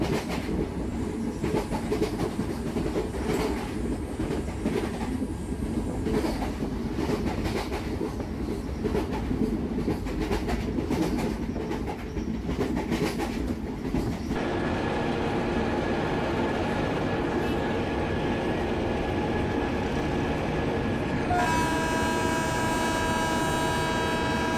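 An express train thunders past a high-capacity parcel van train on a Kerala line, producing a loud, continuous roar of wheels and rattling carriages with steady clickety-clack that shifts in tone as the coaches rush by close at hand.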